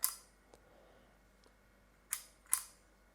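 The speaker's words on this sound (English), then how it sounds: "You then fire the shutter." A Bencini Koroll aluminium camera fires its shutter: a sharp click at the very start, two faint taps, then two more crisp mechanical clicks close together near the end, heard alone in a quiet room.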